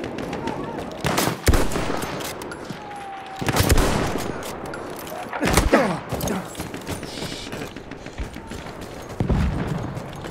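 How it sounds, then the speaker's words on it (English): Machine gun fire in the Battlefield 1 video game, bursts of loud gunshots and explosions recurring through the clip amid continuous battle noise. "I'm looking at a machine gun."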